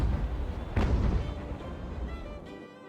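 Ship cannons firing in Ultimate Admiral: Age of Sail, a naval battle of sailing ships: one heavy, close cannon boom with a long rolling decay, then a fainter, more distant shot, over a low battle rumble.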